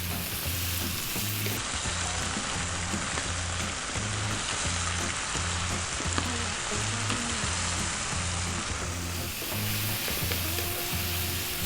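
Green vegetables and zucchini stir-fry over high heat with a loud, continuous close sizzle, while a utensil keeps them moving in a steady, repeating rhythm.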